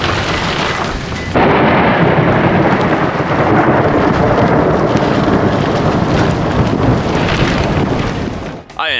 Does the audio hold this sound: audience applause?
no